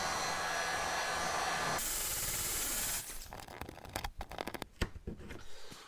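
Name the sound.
heat gun warming a Corvette emblem to remove adhesive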